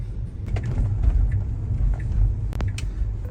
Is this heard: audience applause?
no